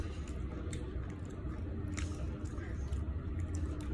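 Close, crunchy chewing of a chia seed granola snack with cocoa powder, soft squishy bites and crunches repeating steadily in quiet surroundings.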